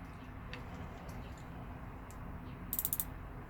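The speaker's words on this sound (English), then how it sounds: "We have a unidirectional turning bezel, which is really smooth." Turning the unidirectional bezel on a Nautec No Limit Coastguard watch gives faint, soft mechanical clicking, ending in a quick run of four or five brighter, crisp ratcheting clicks near the close.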